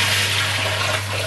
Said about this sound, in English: Let me wash the plates in the sink first.